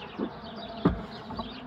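Honey bees buzz around an opened beehive during an inspection, a faint, close drone with one brief louder pass partway through.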